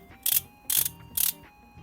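A hand ratchet loosens the oil filter cover bolts on a Yamaha X-MAX 300 V2 scooter: three short, close bursts of rapid clicking, evenly spaced with brief quiet gaps.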